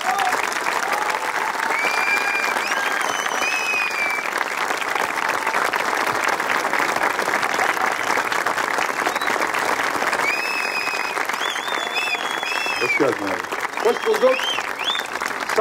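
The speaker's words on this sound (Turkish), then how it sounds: "Çok çok teşekkür ediyorum zarif alkışlarınız için" A theatre audience gives warm, steady applause to welcome a guest actor onto a stage, a dense continuous clapping that holds at full strength throughout, with a voice briefly heard near the end.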